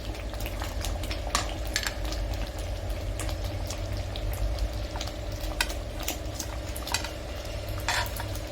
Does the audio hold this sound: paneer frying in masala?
yes